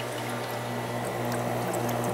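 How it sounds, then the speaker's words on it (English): A pump fills a 38-gallon nano reef aquarium with fresh water, producing a steady close rush of pouring water over a constant low motor hum, unchanging for the whole stretch. "the pump turns on, and you can see it starts to fill my tank"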